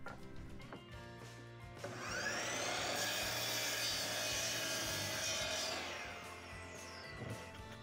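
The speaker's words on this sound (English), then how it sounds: "I once again used a stop block that was locked in place this time, and just cut up the tops and bottoms for all my blocks" A saw cuts through wooden blocks set against a locked stop block in a woodshop, with a loud, steady rising whine and rasp lasting several seconds, then tapering off, up close and with no talking.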